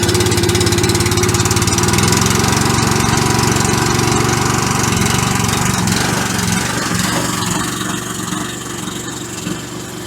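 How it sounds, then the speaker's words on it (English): A fuel-powered air compressor engine runs steadily on an Alaskan homestead in spring as it warms up, a loud, close, continuous mechanical drone that stays even and eases off slightly near the end. "air compressor's warmed up"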